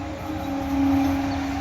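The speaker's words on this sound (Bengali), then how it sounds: "ওই যে ট্রেন লাইনটা, ট্রেন চলে গেল" A train runs along a railway line near the Ganges at dawn, heard as a steady, fairly loud rumble with a sustained low hum that swells toward the middle and holds, no voices present.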